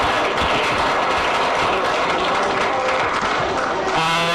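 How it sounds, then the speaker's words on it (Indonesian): Classroom applause as students clap together on cue during a lesson, a dense, steady wash of many hands filling the room, loud and continuous before ending abruptly near the close. "Tepuk tangan untuk kita semua."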